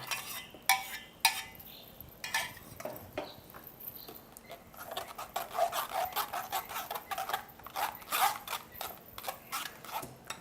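Ground tamarind and spice paste for pani puri water is pressed and scraped through a metal sieve, giving close, irregular rubbing and rasping strokes with light clinks of utensils, quiet at first and busier toward the end.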